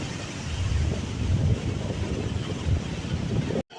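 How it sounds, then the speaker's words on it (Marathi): Waves at Dande beach on the Konkan coast wash in at high tide under gusting wind, a loud, continuous surging roar with a rumbling low end and no voices. "हे बघा लाटा येतो"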